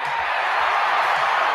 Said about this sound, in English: The crack of the bat, the roar of the crowd,